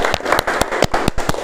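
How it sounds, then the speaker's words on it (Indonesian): A short burst of hand clapping at a school anti-bullying group session, sharp separate claps in an uneven rhythm from a small group, close and fairly loud. "tepuk tangan untuk kita semua"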